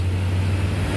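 A bus passing on an Indonesian road, a steady low engine drone with a strong hum throughout this short moment, loud and close with no talk.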